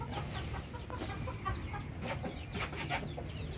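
Native chicken hens cluck softly and repeatedly in a farmyard, with faint, scattered short calls over a constant low background hum, fairly distant and quiet.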